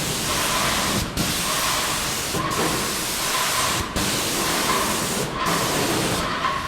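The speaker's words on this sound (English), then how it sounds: "We're spraying the whole piece to make it darker with a base color" A spray gun hisses steadily as a darker base coat is sprayed over a faux stone panel, with brief pauses between long passes, close and continuous.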